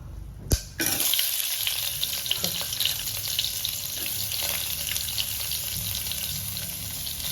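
Onions sautéing in hot ghee for tomato biryani crackle with a loud, steady close sizzle after a brief clatter as they drop into the pan.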